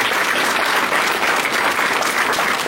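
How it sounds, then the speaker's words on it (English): Audience applause at a group talk, a thick, even roar of many hands clapping, close and loud, sustained throughout with no voices. "So give him a round of applause again, guys."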